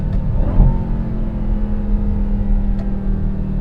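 A 2021 Dodge Durango Hellcat accelerates hard in third gear at about 4,500 RPM, a loud, steady, close engine drone with a low humming tone and no talking.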